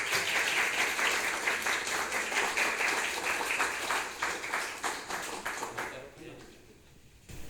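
An audience at a social economy policy forum applauds steadily for several seconds, a dense crowd clapping that tapers off into a few scattered claps near the end.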